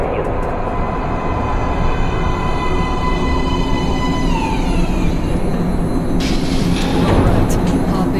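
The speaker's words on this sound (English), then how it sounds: "Please step away from the edge of the platform. Train coming in." A subway train in the video game Metro Last Light rumbles into a station, a loud steady roar with a rising whine and a brief screech of brakes near the end.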